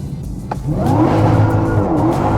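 A 1,025-horsepower rear-wheel-drive Dodge Demon 170 launches hard from a standstill. The engine roars up loud and close with a climbing whine, and a faint tire squeal comes in as it pulls away.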